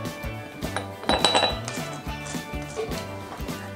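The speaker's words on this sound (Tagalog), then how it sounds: "Make sure na well mix ang ating dry ingredients" Dry chocolate cake ingredients (flour, salt, powdered coffee, baking powder and baking soda) stirred in a bowl, producing repeated rhythmic clinks and scrapes of a utensil against the bowl, close and moderately loud.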